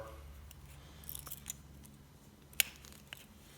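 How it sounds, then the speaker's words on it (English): Cutters snip through a tie wrapped three times around a quarter midget race car's fuel line. It comes across as one quiet, sharp click against a low, steady background hum. "Now we're going to cut it off and we're going to fold it over."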